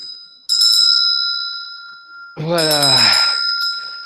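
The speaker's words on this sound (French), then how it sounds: "Le début de la séance avec cette petite cloche." A small bell rings twice at the start of a meditation session, each strike ringing bright and sustained before it fades, and a voice speaks briefly over the second ring.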